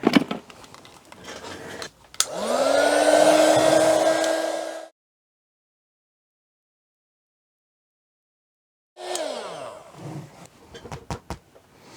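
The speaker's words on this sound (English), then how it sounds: "maybe I need to use a heat gun to let it dry and then tighten up" A heat gun dries sprayed canvas during oil painting prep, with a loud, steady whirring blow lasting a few seconds that cuts off abruptly, followed by silence and then light clattering as things are handled.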